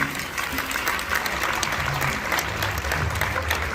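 Guests at a church gala dinner supporting religious institutes clap steadily in a dense wash of applause, with a faint low voice murmuring beneath the clapping.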